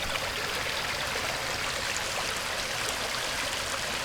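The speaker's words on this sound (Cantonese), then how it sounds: "哇，好舒服嘅溪水。" A stream flows strongly after heavy rain, heard up close at a campsite. A steady, loud, broadband rush of water runs unbroken throughout, with no talk.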